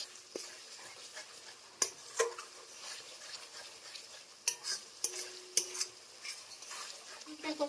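Spice paste for a Bengali katla fish malai curry being fried and stirred in oil, a quiet sizzle broken by sharp intermittent scrapes and clinks of a spatula against the pan, close up, no talk.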